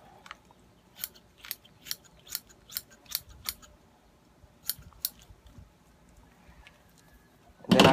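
Shears snipping a chicken's crop and windpipe during processing, a run of crisp close cuts in steady rhythm, a pause, then two more snips before a louder rustle at the end.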